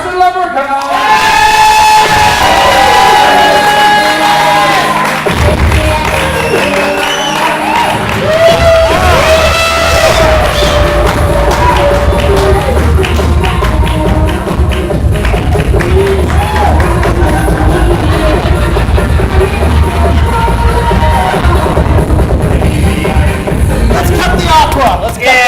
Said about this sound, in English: warm round of applause for Murder Fairy Arson Leprechaun!